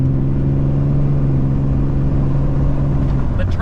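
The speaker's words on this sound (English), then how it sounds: "The turbo Cummins engine sounds really good, especially with the window down" Ram 3500 with a turbo Cummins diesel engine driving with the window down, a steady low droning hum heard from inside the cab, constant and fairly loud throughout.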